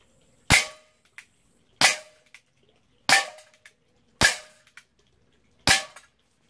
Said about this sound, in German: So, nun der Schofield mit den Field Target Trophy Green.